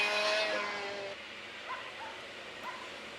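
Sim racing cars at Llandow easing off, engines whining with tonal notes that fall away, then quieter revs and a few brief engine blips further off, with no talk.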